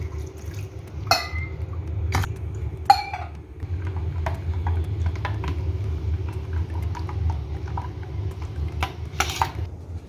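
Curd being broken up and mixed with ground coconut paste in a pot gives scattered clinks and scrapes of a spoon against metal, with soft wet stirring between the knocks.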